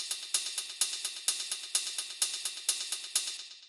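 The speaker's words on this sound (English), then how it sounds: "The next thing I have here is this first hi-hat, which sounds like this." A techno hi-hat sample plays alone as a steady, crisp, bright pattern of closed ticks with regular accents, about four to five strikes per second, dry and upfront.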